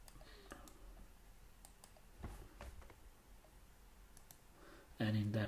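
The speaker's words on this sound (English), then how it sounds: "So let's type that command." Soft, sparse clicks of a computer keyboard as a command is typed, faint against quiet room noise, ending with a louder burst of sound.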